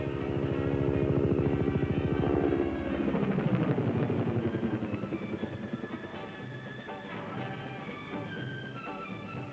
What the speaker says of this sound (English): the attack helicopters are receiving fire. They inform the pilots, who begin evasive maneuvers and move to a different attack position